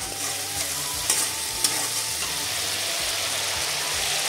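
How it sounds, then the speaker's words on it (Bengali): Chili powder and cumin paste hit hot oil in a frying pan, producing a loud, dense, continuous sizzle with a couple of sharp clicks as the mixture is stirred. "এবার দিয়ে দিচ্ছি লঙ্কার গুঁড়ো, তারপরে দিয়ে দিলাম জিরে বাটা"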